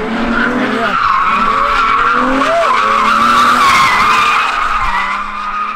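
A Nissan 350Z drifts with loud, sustained tire squeal over its revving engine, the screech wavering in pitch as the car slides continuously nearby.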